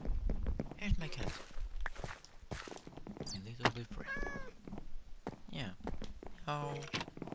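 Minecraft cat meowing a few times amid in-game footsteps and thuds, the meows short and clear between bursts of a person talking.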